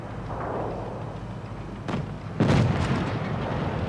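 Tank gun fire in a video game, two sharp booming blasts, the second heavier with a rumbling explosion tail, set against a low engine drone.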